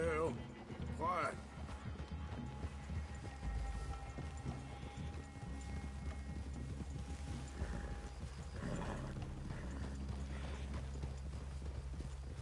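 Several horses walking with a steady clip-clop of hooves on the ground, mid-distance, while people talk quietly in the background.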